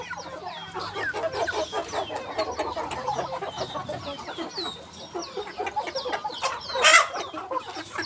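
Bangkok chickens in a farm pen cluck and chatter in a busy, overlapping stream of short calls, fairly close, with a brief louder squawk near the end.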